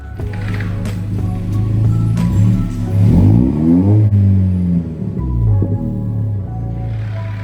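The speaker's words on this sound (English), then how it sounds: "One quick rev is all we're gonna do since it's a customer's vehicle" A Toyota Tacoma engine with an AWE Tuning exhaust, idling with a deep rumble, then one loud rev that rises and falls back to a steady idle, heard close.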